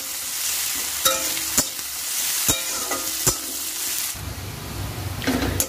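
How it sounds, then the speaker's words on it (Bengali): Onions sizzle steadily in hot oil while a spoon stirs them, scraping and clacking against the pan in several sharp knocks. The frying hiss grows louder and fuller toward the end. "তো পেঁয়াজটা একটু ভালো করে ভাজা ভাজা করে নিই।"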